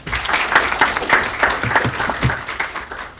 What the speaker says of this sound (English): A round of applause for Mercy.